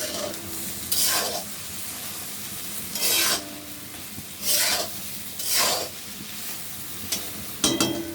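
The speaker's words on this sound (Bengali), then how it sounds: "কাঁচা আম দিয়ে নেড়ে ঢেকে দিব।" Taro stolons being stirred with raw mango in a pan, cooked without oil: four or five separate scraping, rasping stirs, fairly close and distinct, with a soft sizzle-like hiss between them.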